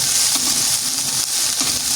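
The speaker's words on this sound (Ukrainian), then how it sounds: "буду далі смажити." Steady hissing sizzle of food frying in a pan, continuous and fairly loud, with faint crackles and no voices.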